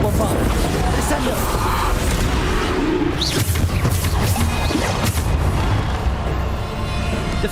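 A Bombarda blast spell from Hogwarts Legacy goes off amid dense combat noise, with booming impacts and crashes layered over constant loud effects and a spoken voice.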